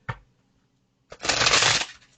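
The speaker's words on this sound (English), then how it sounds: "I'm going to shuffle these cards one time." Tarot cards are handled with a brief tap, then riffled in one quick, close, crisp burst of shuffling lasting under a second, with no talking.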